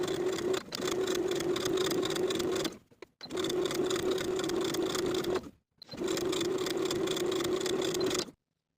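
A sewing machine top-stitches fabric binding around the top edges of a sleeveless top. It runs in three steady, fast-humming bursts, each stopping abruptly, close and clear, with no talking.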